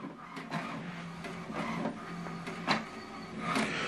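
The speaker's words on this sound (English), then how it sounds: "So what it's doing now, what is printing is alignment." An HP printer prints an alignment page, giving a soft mechanical whir with repeated clicks and brief scraping pulses as paper feeds and the print head moves, fairly quiet and close with no talking.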